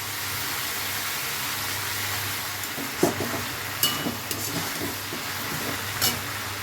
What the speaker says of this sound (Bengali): সবজিটা ভালো করে ভেজে নিয়েছি